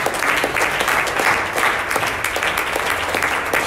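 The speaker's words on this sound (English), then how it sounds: "Let's clap our hands to Jesus." Church congregation clapping hands together during a worship service, a dense, steady wash of applause that fills the whole stretch with no pause.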